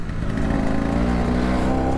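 A 1966 Piaggio Vespa 150 Sport scooter engine runs steadily close by while riding, a continuous loud buzzing drone with no talk over it.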